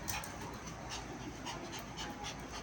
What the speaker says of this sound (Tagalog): Hindi ka na naman mapakali. Hinihingal ka na.